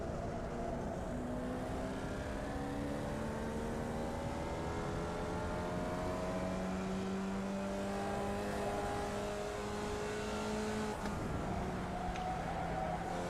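A Formula Vee race car engine on a qualifying lap at Okayama in a racing video game, droning steadily and loudly throughout with pitch rising and falling through gear changes, alone with no voices.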